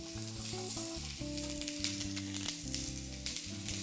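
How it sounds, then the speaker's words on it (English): A chili pepper laid skin down in a screaming hot pan for salsa roja, with a steady, close, loud sizzle. Tonal music plays underneath. "I'm gonna put it in skin down because I want that skin to blacken."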